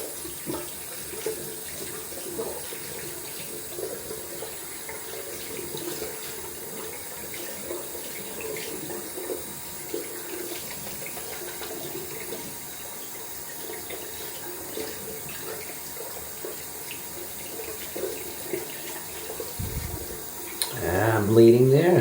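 A tap runs steadily into a sink as a boar-bristle shaving brush is rinsed of leftover lather, close and even, with a louder gush of water at the end.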